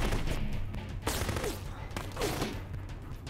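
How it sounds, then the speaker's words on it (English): Enemy gunfire in the Full Spectrum Warrior military game, a few loud, close bursts of shots over a steady background rumble, with short pauses between volleys. "Firing on us."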